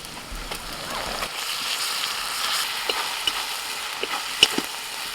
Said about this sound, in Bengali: পেঁয়াজটা ভাজা হয়ে গেছে আদা রসুন বাটা দিয়ে দিচ্ছি